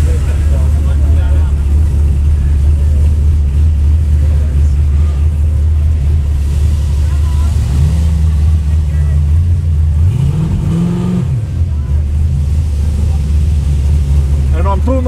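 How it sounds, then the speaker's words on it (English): Cars roar through burnouts at the Summernats car festival, including a Ford XW GT, a loud continuous low engine rumble with revs rising and falling twice midway, heavy and close throughout. "The sound of the cars."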